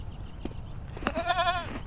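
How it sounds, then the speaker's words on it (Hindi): A goat in an Islamic cartoon gives a single wavering, quivering bleat after some soft background noise and faint clicks, brief and fairly close. "आपका बकरा बहुत प्यारा है।"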